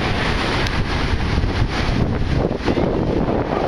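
East wind at roughly 16 blowing across rough open sea aboard a boat, a constant loud rushing roar of wind buffeting the microphone with wave wash beneath, continuous and unbroken with no voices.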